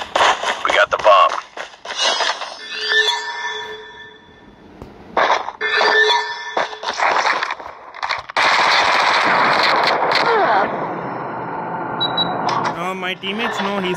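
Bursts of automatic gunfire in Call of Duty Mobile during a bomb-objective match ring out in rapid rattling volleys, some loud and close, others thinner and farther off, mixed with game effects and occasional talk.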